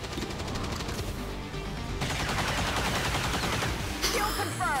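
Continuous rapid automatic gunfire from an XCOM 2 firefight, loud and dense throughout with a sharper burst near the end.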